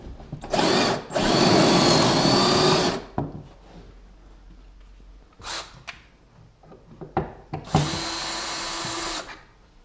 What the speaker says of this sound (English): what we're going to do is run a screw in here to hold the handheld in place